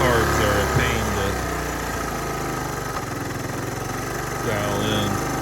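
A 1970 Honda Trail 90 fitted with an aftermarket carburetor idles in a steady, close putter, with someone speaking over the engine.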